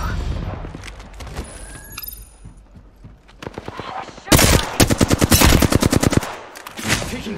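Gunfire in an aircraft combat video game, sporadic shots building into a loud sustained burst of rapid machine-gun fire, then trailing off, with a voice speaking underneath.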